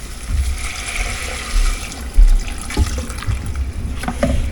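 Water pours and splashes continuously into a container nearby, with gurgling and a few bumps and clinks.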